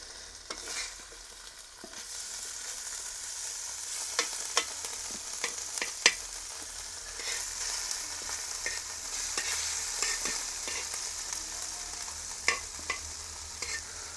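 Prawns fry in coconut oil on a tawa with a steady, bright sizzle, while occasional stirring adds faint scrapes and taps; close and moderately quiet, with no talking.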